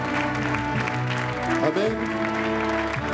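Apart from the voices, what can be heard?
congregation applauding in church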